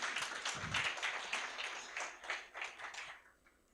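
Audience clapping at the close of an accountants' town hall forum, a dense burst of many hands that fades and thins into scattered claps toward the end.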